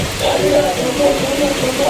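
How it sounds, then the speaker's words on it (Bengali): Heavy rain falls steadily during a hot evening with lightning about, a continuous dense wash of drops heard close by, with faint voices mixed in underneath. "দারুণ জোরে বৃষ্টি পড়ছে"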